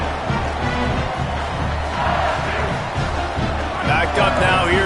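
A football stadium crowd roars continuously, a dense wash of yelling and screaming from fans on their feet for the whole game, with whistles and shouts rising near the end.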